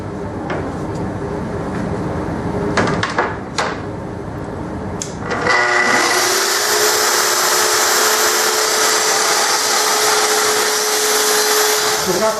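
A power saw cuts a second wooden picture-frame piece on a Festool MFT table, with clamp handling and clunks first, then a loud, steady whine of the spinning saw.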